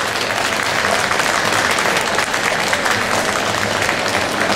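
Steady, dense applause from a crowd at a traditional Russian wedding ceremony in the Zaonezhye style, held at an exhibition, continuing evenly and loudly throughout with no voices standing out.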